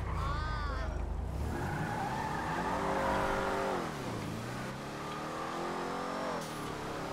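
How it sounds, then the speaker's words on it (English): Car in GTA Online driving hard and skidding, engine revving under a long tire squeal that bends in pitch, loud and continuous throughout with no talk. "this car can outrun every other car in the game."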